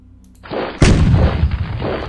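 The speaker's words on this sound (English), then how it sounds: "Unknown artillery fire" Artillery fire in the strategy game Decisive Campaigns: Ardennes Offensive: a low rumble swells, then one sharp, loud blast hits and rolls into a heavy, sustained booming decay.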